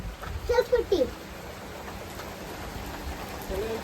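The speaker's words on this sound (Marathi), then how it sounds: "पाऊस पडत आई" Steady rain patters in the background while a voice speaks briefly near the start, then the rainfall continues on its own.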